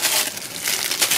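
A plastic bag wrapped around boiled corn still in its husk gives a brief, close crinkling rustle, bright and papery.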